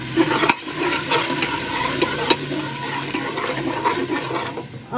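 Water splashes and gurgles steadily as it is poured into a cooking pot of tomatoes on a home kitchen gas stove, with a couple of sharp clinks along the way.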